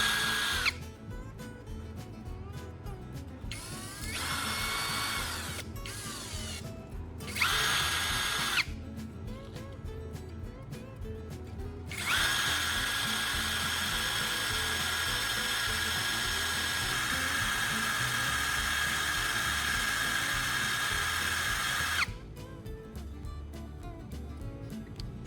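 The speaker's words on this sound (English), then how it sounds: "To shape a proper welding tip, we'll sharpen one end of the battery core." A power tool grinds and sharpens one end of a carbon core taken from a battery, shaping a welding tip. Several bursts of high whining grinding are separated by short pauses, with one long steady run in the middle, loud and close.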